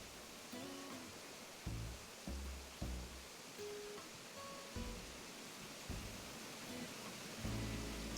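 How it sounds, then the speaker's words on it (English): Steady broadband rush of waterfalls in Animal Crossing: New Horizons, a constant loud wash of falling water with soft game thumps and chimes on top, no talking. "The waterfalls are so loud."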